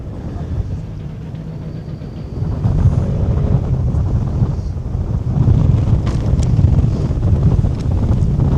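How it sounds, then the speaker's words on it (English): Strong, gusty wind buffets the microphone at a dusty outdoor motorkhana event, a loud continuous low rumble that builds and stays heavy throughout with no talk. "The wind getting a whole lot worse."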